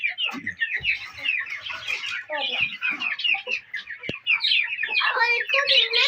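Chickens cluck and chirp in a busy, continuous chorus kept indoors among colourful chicks and pet rabbits, with dense overlapping calls and a voice talking faintly now and then.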